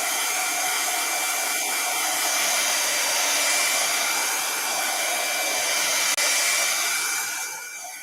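A hair dryer blows steadily and loudly at close range, drying freshly painted Easter crafts, its even whoosh holding for several seconds before easing off slightly at the end.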